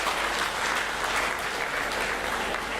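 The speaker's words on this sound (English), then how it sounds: "Please give yourself a round of applause." Dense, continuous applause from a large audience at a film industry event, loud and steady throughout with no gaps.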